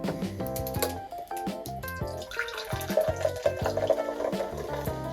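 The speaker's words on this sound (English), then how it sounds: "let's pour it in the cup" Root beer is poured into a cup, giving a close, gurgling trickle of liquid with busy fizzing and bubbling throughout.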